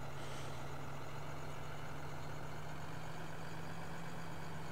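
A tractor engine in the Farming Simulator video game idles as a steady low drone with a constant hum, running evenly from start to finish with no voices.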